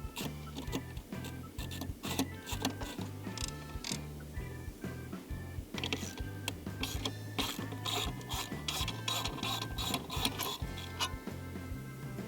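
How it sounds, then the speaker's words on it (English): A 13mm ratcheting wrench clicks rapidly and continuously while loosening the battery hold-down bracket fasteners on a 2015 Audi A8 Quattro, close up, with no talking. "remove the fasteners for the battery hold-down bracket, and you'll need your 13mm wrench for that"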